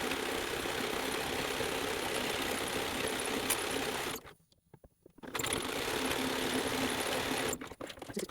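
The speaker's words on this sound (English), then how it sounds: "now we're going to zigzag stitch this into position" A sewing machine runs a zigzag stitch through jersey dress fabric, a steady close mechanical whirring that stops briefly midway, then resumes and pauses again near the end.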